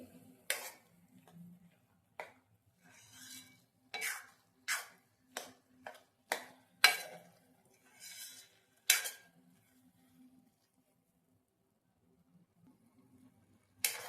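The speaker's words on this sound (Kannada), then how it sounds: "ಫುಲ್ ಕಂಪ್ಲೀಟಾಗಿ ಹಾಲೆಲ್ಲ ಕರ್ಗೋ ತನಕ ನಾನು ಈ ರೀತಿ ಮಿಕ್ಸ್ ಮಾಡ್ಕೊಳ್ತೀನಿ" A spoon clinks and scrapes against a pot in a dozen or so sharp, separate strokes as milk powder is mixed into milk, each tap distinct and close.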